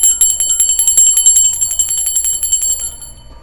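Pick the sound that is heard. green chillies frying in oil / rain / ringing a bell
ringing a bell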